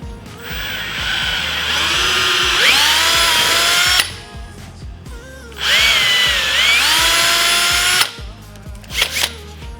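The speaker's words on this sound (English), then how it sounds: "You gotta be very careful with the angle of your drill when you're drilling into a heel." A power drill bores holes into the heel of a roller skate boot, whining up under load in two long sustained bursts with a pause between, then a few short ratcheting clicks at the end.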